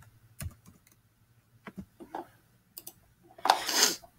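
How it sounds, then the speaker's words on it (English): Someone types a short phrase on a computer keyboard in a quiet room, a few scattered key clicks closing in a quick burst of taps, close up with no voices. "I'm going to type in mail merge."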